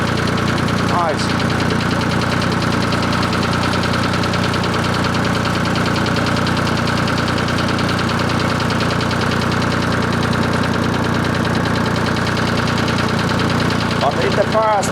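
Ford 4000 tractor engine idling steadily outdoors by a lake during trench-filling work, a continuous near rumble with faint knocking texture throughout, a brief click near the start and end.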